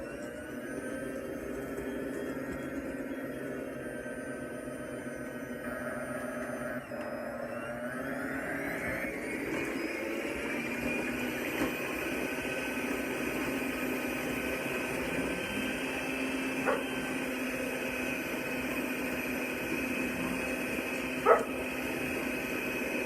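Electric mixer whirring steadily through pecan chocolate sour cream pie filling, a continuous motor whine that shifts higher in pitch partway through, with occasional small clicks and no talking.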